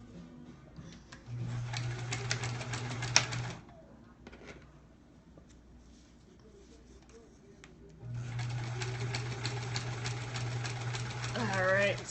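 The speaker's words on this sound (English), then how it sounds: "Alright, sewing straight, which is kind of difficult for me sometimes." A sewing machine stitching a straight seam runs in two steady humming, rapidly ticking bursts of a few seconds each, with a quieter pause between them.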